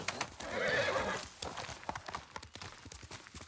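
A horse in the video game Ghost of Tsushima gives a loud whinny, followed by a rhythmic clip-clop of hooves trotting close by.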